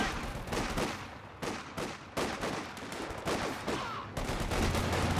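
A machine gun rattles in the video game Company of Heroes 2, loud repeated bursts of gunfire broken by brief gaps, with a rumbling battlefield underneath.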